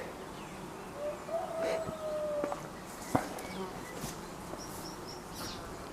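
Honeybees buzzing at a hive entrance, a steady close swarm hum with individual bees droning past, continuous for the whole stretch.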